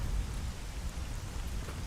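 Heavy rain in the STALKER GAMMA video game, a steady dense hiss with a deep rumbling undertone, constant and fairly loud throughout, with no voices.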